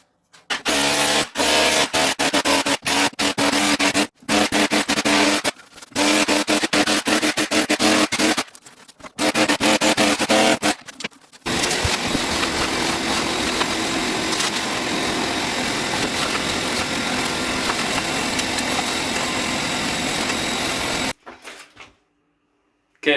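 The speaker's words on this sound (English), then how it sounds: "I gotta cut a little area, or actually chip away a little area around here" Floor being chipped away around a drain pipe to fit a shower base: loud, close, broadband knocking and grinding in bursts through the first half, then steady rough scraping and rubbing for about ten seconds before stopping.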